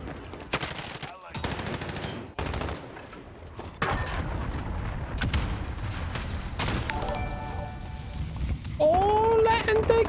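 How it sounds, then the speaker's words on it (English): A predator missile strike in Call of Duty lands amid rapid gunfire bursts and crashing impacts, loud and dense for the full stretch, with game sounds layered throughout. "Friendly predator missile inbound."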